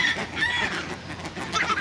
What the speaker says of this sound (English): My God, the seagulls are scroungers.